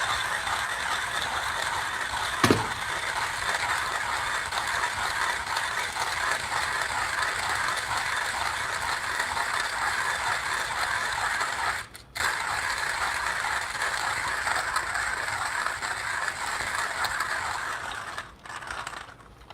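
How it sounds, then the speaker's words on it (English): A 1Zpresso K-Ultra hand grinder crunches coffee beans, a steady close ratcheting grind that runs continuously with one brief pause. "Into my grinder. I got a new K Ultra, so that's good."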